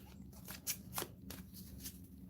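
Cards being shuffled for the Maximum Apocalypse board game, a few quick riffling bursts close by and fairly quiet, with no talk.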